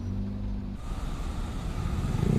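Idling trucks and buses queued at Bakauheni port, a low diesel rumble with a steady engine hum that cuts off, then a rougher growl building toward the end as a heavy vehicle revs nearby.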